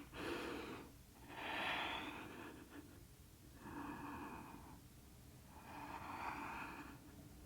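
Slow, deep yoga breaths, including during a bow pose, come as four long airy inhales and exhales, evenly spaced and close to the mic against a faint background.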